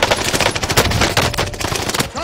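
STG assault rifle in Warzone fires in fast, loud automatic bursts with a few brief gaps, close and harsh, with faint voice traces mixed underneath.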